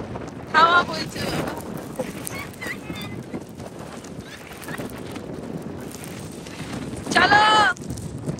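Wind at a beach buffets the microphone in a continuous low rumbling roar, with two louder gusty bursts and people's voices mixed in.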